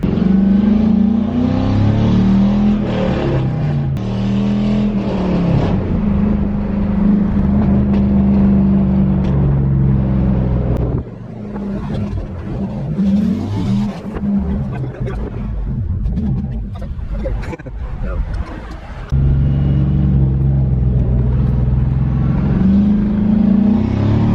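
An LS car engine with a newly replaced crank sensor runs steadily and loudly throughout, with a rougher, dipping stretch in the middle before the steady drone returns.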